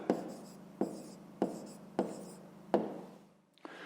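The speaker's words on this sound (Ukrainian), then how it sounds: "Пишемо відповідь." A pen scratches across paper in short strokes, about five distinct scribbles with sharp starts and brief pauses between them, close and quiet, no one speaking.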